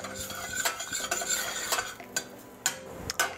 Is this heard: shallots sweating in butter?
yes